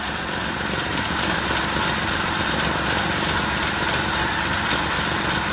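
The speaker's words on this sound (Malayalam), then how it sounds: "അതായത് നല്ല സൗണ്ട് ഉണ്ട് റിലീസ് വയറിങ്ങിൻ്റെ" Car engine idling with a noisy clutch release bearing, a steady, loud, continuous mechanical drone and whir heard close up without pauses.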